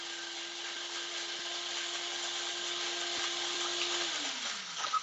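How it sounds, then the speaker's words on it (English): A kitchen blender chops chocolate chips with a steady, fairly faint motor whine that holds for about four seconds, then its pitch sinks as it spins down. "The blender is going to do the work. It's going to chop up that chocolate."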